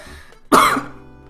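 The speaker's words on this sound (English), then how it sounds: "She promptly chokes on her soup and begins coughing violently." A woman chokes on miso soup and coughs violently, one sharp close burst of harsh coughing that trails off quickly, with quiet room tone before it.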